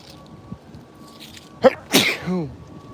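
A single sharp sneeze bursts out after a brief intake, loud and close, followed by a short wavering vocal trail, over quiet room hum.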